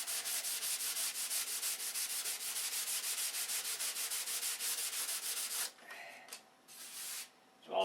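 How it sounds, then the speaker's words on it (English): Steady back-and-forth rubbing of sandpaper on an aircraft model's cockpit area, loud and rhythmic for most of the stretch, then breaking into a few short, quieter scrapes near the end. "There is a lot of sanding."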